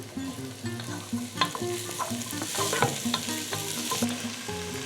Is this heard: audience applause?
no